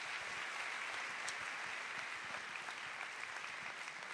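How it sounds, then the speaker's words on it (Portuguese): Applause rings out for a pastor at a Baptist church event, a steady, fairly soft patter of many clapping hands sustained throughout with no voices over it. "Você pode receber ele com uma salva de palmas."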